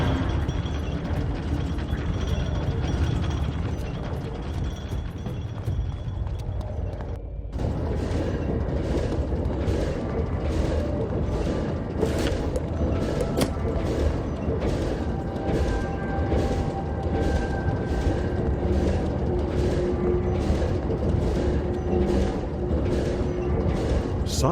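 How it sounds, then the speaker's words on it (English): Metal clanking and gears whirring in the Wizard101 video game: a loud, dense mechanical rumble that drops out briefly, then resumes with a regular pulsing clatter of turning gears, continuous and close. "You put it in place and hear the expected clank of metal and whirring gears."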